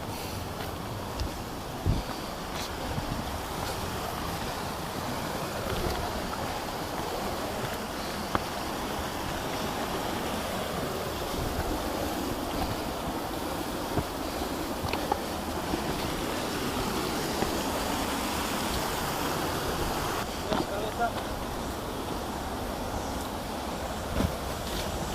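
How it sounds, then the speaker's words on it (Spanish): A waterfall near Cafayate, Argentina, roars as a steady, broadband rush of falling water, continuous and fairly even throughout, with faint wind buffeting and occasional small knocks. "Llegamos a la tercera cascada."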